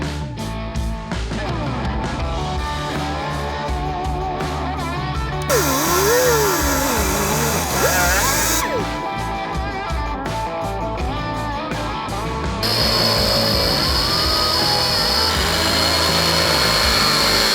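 A power tool cuts through the lower grill support on a Chevy Colorado Z71 during a front bumper install, giving a loud continuous grinding whine that shifts in pitch as the cut proceeds, close and steady throughout.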